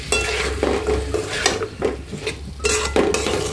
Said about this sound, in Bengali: এখন আমি এই যে করলা, আলু, টমেটো সব একসাথে দিয়ে কষিয়ে নিব।